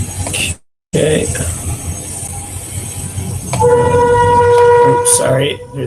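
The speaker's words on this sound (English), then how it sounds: "Train sounds like it's right outside of your door." A train passes right outside a door, a loud continuous rumble of rolling cars with a sustained horn tone rising in the later seconds, under faint voices on a call.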